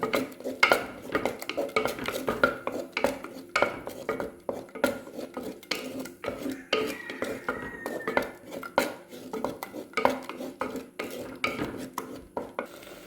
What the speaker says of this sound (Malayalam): ഇനി അപ്പോൾ നമുക്ക് നന്നായി ഒന്ന് വഴറ്റിയെടുക്കത് ആ മസാലേൻ്റെ പച്ചമണൊക്കെ ഒന്ന് മാറിക്കിട്ടെ